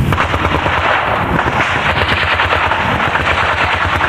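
Dense automatic gunfire and machine-gun bursts from a Vietnam War firefight, continuous and loud with rapid overlapping cracks throughout, no voices.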